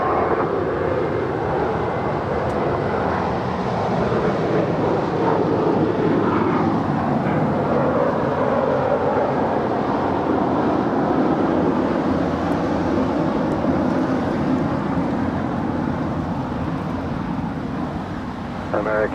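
A United airliner takes off from runway 25 right at LAX, its engines producing a steady, loud broadband roar that holds for the whole stretch, with faint radio voices in the background.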